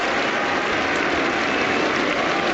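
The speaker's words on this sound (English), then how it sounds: "Cheer breaks out as Ponting fields." Spectators at a 2009 Cardiff Test cricket match break into a cheer. A dense, continuous wash of crowd noise and clapping rises and holds at an even, loud level for a short moment.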